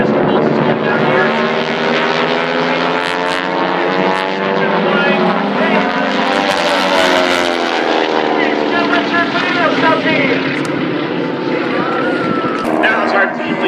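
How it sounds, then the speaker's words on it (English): North American Aviation Texan propeller planes flying down an air show line in formation, a loud droning engine roar that swells as they pass, with someone talking over it. "Bringing those big North American Aviation Texans right down our show line."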